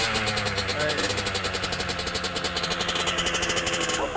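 A junkyard motorcycle engine runs loud and close, firing in a fast, steady, slightly uneven chatter that fills the whole stretch, with a brief rise near the end.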